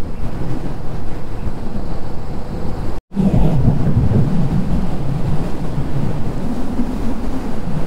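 Strong wind sweeps an open windmill area on a bike route to Hampi, a loud continuous roaring rumble buffeting the microphone, broken by a brief dropout.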